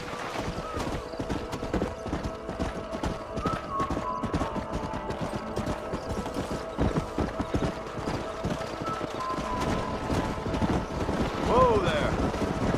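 Horses clip-clop steadily on open ground in the Red Dead Redemption video game, with many close hoof strikes under soft wind and what sounds like a brief whinny near the end.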